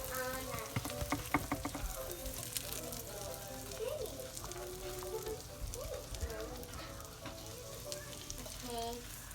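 Acorn squash and yellow long neck squash from a home garden sizzle in a hot pan, with a soft, steady frying hiss and occasional spatula clatter under intermittent nearby talk.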